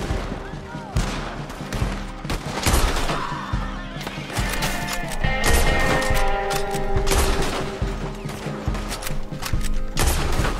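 A street shootout in the video game Red Dead Redemption 2, with dense gunfire cracking in rapid bursts over several seconds, loud and close, with a few crashes and a horse whinny mixed in.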